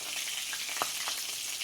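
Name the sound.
frying in mustard oil in a wok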